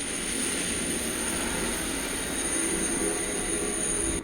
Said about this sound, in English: So spaceship sounds.